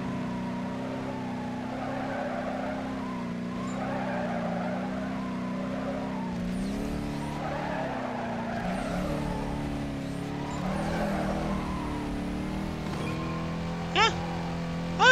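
A tier 1 muscle car engine drones steadily through a two-lap race in Need for Speed Carbon, with rising and falling revs and faint tire noise, and a brief sharp squeal near the end.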